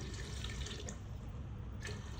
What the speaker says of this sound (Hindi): बस इसमें पानी डाला है और अब हम कुकर को बंद कर देंगे।